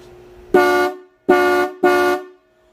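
A vintage electric car horn wired to 12 volts gives three loud, brassy honks, each about half a second long, close up with short pauses between them.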